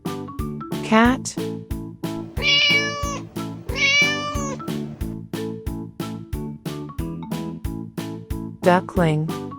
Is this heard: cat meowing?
yes